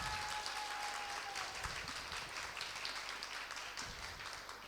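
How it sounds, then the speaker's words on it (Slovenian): A crowd at a Slovenian laughing competition applauds a contestant with a sustained, dense wash of clapping, steady and fairly even over several seconds, with a faint voice or cheer mixed in. "Zdaj za aplavz za Carmen."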